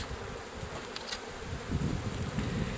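Honeybees buzz steadily around an open hive during a spring inspection, a dense close drone with a low hum that swells louder toward the end and no talking.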